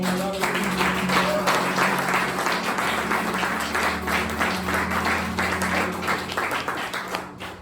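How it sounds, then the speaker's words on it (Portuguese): Applause from a congregation during an evangelical church service at a missionary base, a dense, steady wash of many hands clapping close by for several seconds, with voices mixed in before it thins out at the end. "Aplaudam ao Senhor."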